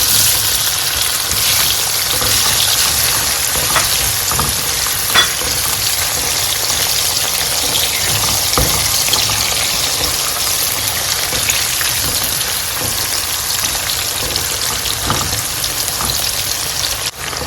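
Onion frying in hot oil for a plantain vegetable sauce, a steady loud sizzle with occasional stirring scrapes throughout, no voices.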